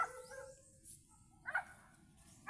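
A dog gives a few faint, distant barks, one at the start, another midway and one at the end, with quiet outdoor background between.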